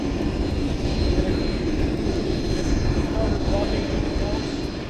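A vintage aircraft engine, from a B-25 or a Ford Tri-Motor, runs at a steady, loud, rumbling drone heard up close with no change in pitch.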